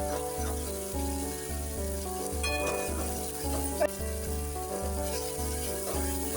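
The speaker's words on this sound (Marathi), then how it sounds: "बघा आपण ग्रेव्ही टाकली फ्राय व्हायला" Gravy goes into hot oil in a pan on low heat and sets off a continuous loud sizzle and bubbling frying, with a faint stirring clink partway through.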